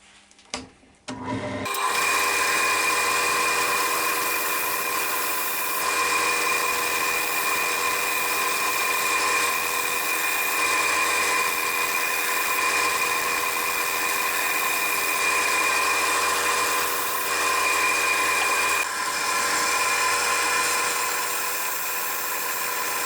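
A wood lathe spins a sycamore platter while a tool rounds off its back corner, a steady, loud, close whirring and rasping hum that starts after a brief knock and runs on without talk.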